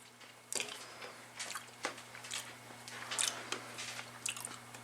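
Soft wet chewing and smacking of cannoli filling tasted off a spoon, a few irregular close mouth sounds over a steady low hum, no talking.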